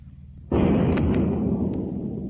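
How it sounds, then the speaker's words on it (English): A depth charge explodes near a submarine in an old radio drama, one sudden loud close blast followed by a long rumbling roar that fades slowly. "If those bombs explode anywhere near the sub, there's no escape."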